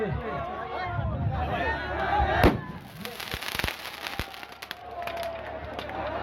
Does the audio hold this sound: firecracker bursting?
yes